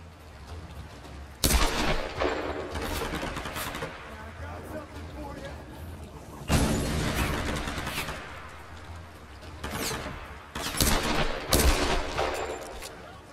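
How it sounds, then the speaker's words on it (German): Loud shotgun blasts from the video game Tomb Raider erupt in several clusters against a steady background hum, with sharp blasts separated by quieter stretches. "Der hat eine fucking Schrotflinte."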